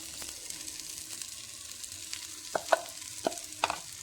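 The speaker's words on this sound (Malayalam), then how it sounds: "ചേർത്തിട്ടൊന്ന് ഇളക്കി കൊടുക്കാം." Ground coconut paste being stirred into a hot pan for a sweet potato leaf thoran, giving a soft continuous sizzle with several sharp scraping strokes of the spoon near the end; no talking.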